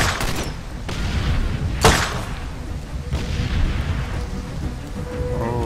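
Gunfire from a gun emplacement on a barge at night in the rain in Far Cry 2: a few heavy booming blasts, one especially sharp near the middle, each trailing into a long rumbling echo over steady rain hiss.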